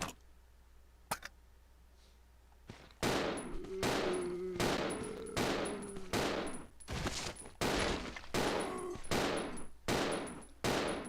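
Handgun shots at zombies in the Resident Evil 0 video game, a series of about ten loud, evenly spaced reports after a quiet lead-in with a couple of faint clicks, each blast ringing out with reverberant tails.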